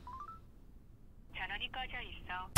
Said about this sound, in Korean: 전화를 걸자